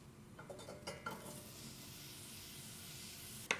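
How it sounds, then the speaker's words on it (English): Onions sautéing in a medium-sized pan with a little oil: a soft, continuous sizzle, with a few utensil taps near the start and a sharp clink at the end. "once you have your onions sauteing, it's going to start softening"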